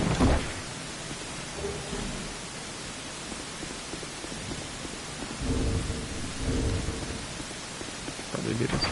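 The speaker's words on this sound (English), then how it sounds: "I just realized it's kind of being drowned out by the rain." Steady rain falls throughout, with low rumbles of thunder swelling near the start and again toward the end, loud and broadband, while faint game sounds and a voice sit underneath.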